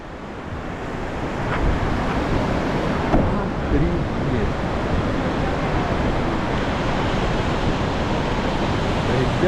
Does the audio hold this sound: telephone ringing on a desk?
no